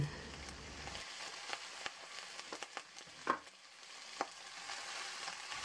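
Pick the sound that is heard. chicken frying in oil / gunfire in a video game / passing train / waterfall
chicken frying in oil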